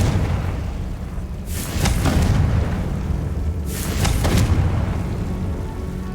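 A Confringo spell in Hogwarts Legacy lets off two deep booming blasts a couple of seconds apart, loud and close over a steady rumbling, rain-like background roar, with no talk.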